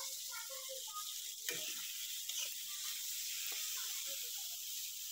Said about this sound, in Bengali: আর তোমার এখন এই কুমড়ো ভাজাটা করছি আর কি